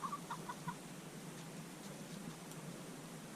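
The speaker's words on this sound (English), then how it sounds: "So we have chickens." A few faint, quick chicken clucks come at the very start on a farm, then fade into a low, quiet outdoor hiss.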